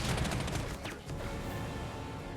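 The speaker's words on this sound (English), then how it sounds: "Let's hit them with artillery." Artillery fire in the WWII strategy game Panzer Corps 2, a loud, dense barrage of booming blasts with a brief whistling streak, rumbling steadily without a break and with no voices.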